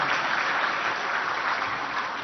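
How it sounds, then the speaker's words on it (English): Audience applause at the opening ceremony of an irrigation congress plenary in a hotel hall, a dense continuous clapping wash heard alone for a couple of seconds. "Can we have a round of applause for these two projects"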